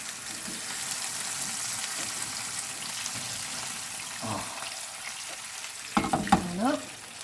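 Pork in a pan with sauce just added over lowered heat, a soft continuous sizzle with faint stirring and scraping. A few clattering utensil sounds come near the end.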